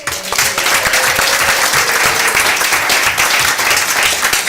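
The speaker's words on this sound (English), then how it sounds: "Please help me to applaud such an amazing employee" Steady applause fills a city council meeting chamber as the room claps for an honored employee, a dense even patter of many hands throughout with a faint voice briefly underneath.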